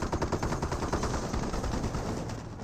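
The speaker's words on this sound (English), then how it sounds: "Bofors now seems to fire there." A Bofors anti-aircraft gun in Company of Heroes fires a rapid, continuous burst of heavy thudding shots, loud and near, with no talk over it.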